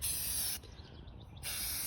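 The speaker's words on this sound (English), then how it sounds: "But I'm just gonna spray paint this" Spray paint can hissing as it sprays a coat onto vintage TV trays for a fabric hamper, a loud steady hiss that drops away briefly mid-burst, then resumes, heard close with no talking.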